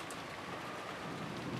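Rain sound effect from the Umineko visual novel, falling on a rose garden: a brief, steady wash of rain on surfaces, soft and continuous with no voices.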